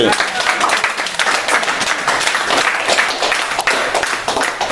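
Congregation at a church service applauding, dense overlapping clapping throughout, fairly loud and close, with voices mixed in.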